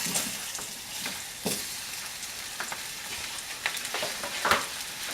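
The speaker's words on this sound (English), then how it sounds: "you're going to let the potatoes fry until they are golden brown" Potatoes sizzle steadily in hot oil in a pan on high heat, with the crackle rising in short bursts each time they are stirred and no voices over it.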